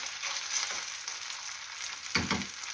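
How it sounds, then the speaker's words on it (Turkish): Leftover pasta fries in a pan, a steady soft sizzle with a brief stirring scrape as a spoon presses it down, then a louder crackling burst near the end. "Kaşıkla bu şekilde bastıracağım ki tam kızarsın."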